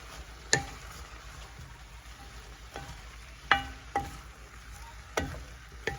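Onions being added to a pot for creamy mushroom soup and stirred: several sharp, close clacks of a utensil against the pot over a soft, steady sizzle, with no talking.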